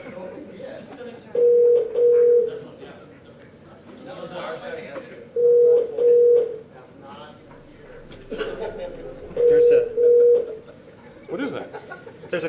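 A conference phone rings in repeated double bursts at steady intervals, fairly loud against a busy room with people talking and chuckling in the background.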